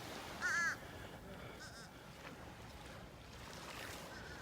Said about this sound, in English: Blackbirds sitting on them.